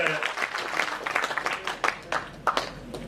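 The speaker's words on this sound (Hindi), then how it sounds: "उन सभी साथियों का एक बार जोरदार ताली बजा करके आप लोग सबका स्वागत कर दीजिए।" Applause at a political gathering, scattered uneven claps from a modest audience rising in a few sharper bursts, mixed with background voices.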